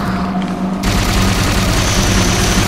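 Rapid gunfire bursts while shooting at Banshee aircraft in the Halo 4 campaign, a dense, loud and continuous rattle of shots layered with game ambience and rumble throughout.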